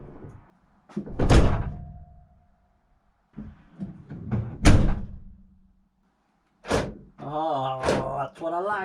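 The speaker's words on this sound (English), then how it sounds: "I'm probably going to shut the door now and test it." A van's side loading door, fitted with a newly replaced mechanism, slides and thuds shut a few times in short bursts, with people talking between the closures.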